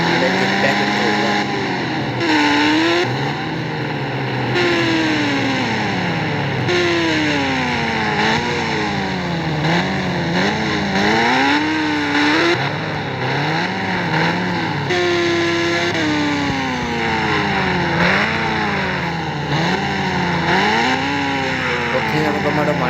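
A motorbike engine revs and drones continuously in the Indian Bike Driving 3D video game, its pitch sweeping up and down with repeated throttle changes while a voice talks over it.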